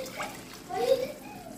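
A small bowl of water is poured into an Italian tomato sauce in a home kitchen, giving a brief splashing pour that lasts about a second under a steady room hum.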